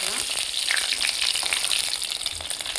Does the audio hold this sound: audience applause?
no